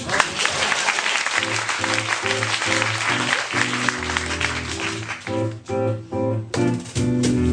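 An audience claps in a broad, continuous patter at a live performance while piano-like notes of a song begin to play over and through the clapping.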